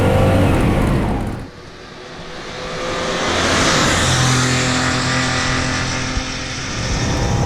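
A Porsche 914/6 flat-six engine roars steadily and loudly, dipping briefly before building again into a sustained, throaty rev.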